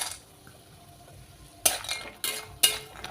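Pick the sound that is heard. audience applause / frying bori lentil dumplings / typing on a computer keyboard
frying bori lentil dumplings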